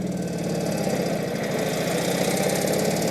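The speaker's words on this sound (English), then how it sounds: "Pull your suicide clutch, your shifter up to first gear, stop, look, okay, throttle, clutch, rocket back," A 1948 Indian motorcycle engine with a suicide clutch pulls away in first gear, giving a steady, loud, throbbing thump close by with no talk over it.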